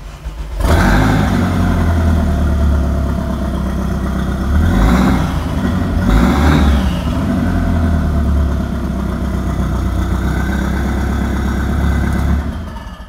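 An Audi 20v turbo engine fitted in a Mk1 Caddy runs loud and close, idling roughly before two rising revs around the middle, then settling back to a steady idle and cutting off near the end.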